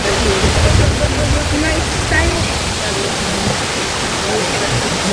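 A steady, loud roar of falling water from a waterfall at Plitvice Lakes, Croatia, fills the whole moment as a continuous rushing wash with no breaks.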